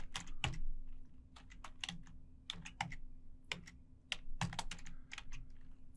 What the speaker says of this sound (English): All right, type in search port scan